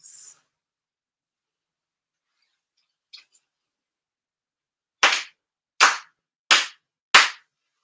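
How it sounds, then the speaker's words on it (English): Four sincere ceremonial hand claps at a mid-year purification ceremony ring out alone in near silence, crisp and evenly spaced, following a couple of faint small sounds. "4 sincere claps"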